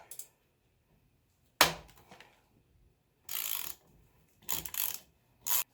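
A wrench works the axle bolt on a Honda XR100 in several short, separate bursts of metallic ratcheting and scraping, with quiet gaps in between.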